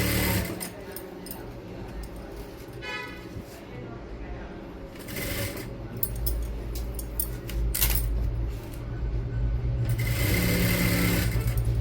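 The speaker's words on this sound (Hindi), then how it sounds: "हाफ इंच का मार्जिन रख के इस पर पूरे पे सिलाई लगा दो" A sewing machine stitches a fabric seam on a kashmiri plazo, its mechanical whir running in bursts that start and stop across the stretch, with short breaks between runs.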